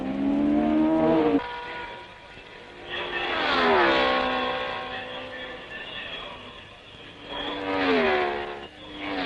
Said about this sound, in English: virtually laps of honor for Gurney and the Porsche